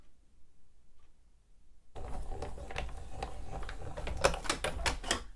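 A Spellbinders die cut machine cuts cardstock after a quiet start, producing a close, dense run of clicking, crunching mechanical ticks that grow more pronounced toward the end.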